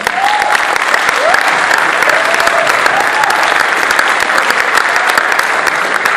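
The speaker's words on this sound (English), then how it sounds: "So let's give a big round of applause." A school audience at a symphonic band concert breaks into loud, full applause, dense clapping close and continuous for several seconds with a few faint voices mixed in.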